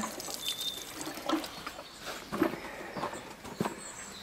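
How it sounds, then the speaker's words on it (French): Water is splashed and trickled over concrete steps to wet them before cementing, with soft drips and splashes that come in small irregular bursts close by, fairly quiet overall. "Je mouille dans un premier temps mes marches"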